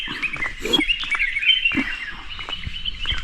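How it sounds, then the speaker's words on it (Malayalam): Many birds chirp and tweet in the morning around a hillside resort in Munnar, next to forest. The overlapping calls are dense and steady and fairly close, with no talking. "ഫുൾ കിളികളുടെ ഒച്ചയാണ് ഇവിടെ."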